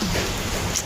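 Heavy rain pours down in a dense, unbroken hiss of drops striking surfaces nearby, loud and steady for under a second.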